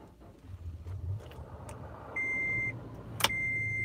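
A Toyota FJ is switched on: a faint mechanical click and hum, followed by steady electronic chime tones and a sharp beep, heard close inside the quiet cabin.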